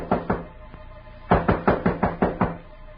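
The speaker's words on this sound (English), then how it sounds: "Suddenly there was a knock on the door." Two separate runs of sharp knocks on a door: a pair of raps followed by a faint one, then a louder burst of five or six evenly spaced, near knocks, with no voices.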